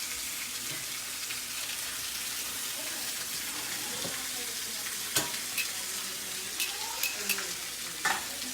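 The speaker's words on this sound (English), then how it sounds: "So we're gonna let that sear." Chicken thighs searing in hot grease in a pan give a steady, even sizzle with a few sharp pops and crackles near the end, with no talking.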